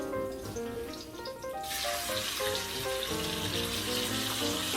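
Shrimp dropped into a hot pan where oil and garlic are turning golden, a soft sizzle that swells to a steady hiss partway through, moderately loud with no voices.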